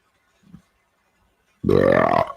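A faint grunt is followed by a loud, drawn-out, deep belch that rumbles for most of a second, close to the microphone with no speech over it.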